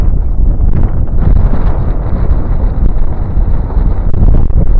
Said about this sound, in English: Good thing we got overcast because you probably hear the wind.